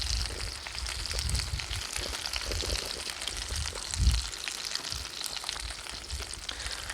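Prawn heads fry in a pan, giving a continuous close crackling sizzle with bubbling and spitting. A soft thump lands midway.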